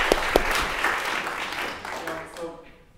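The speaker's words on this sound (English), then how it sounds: "So, applause." At a string quartet master class, an audience applauds in a fairly loud, dense burst that gradually tapers off over a few seconds.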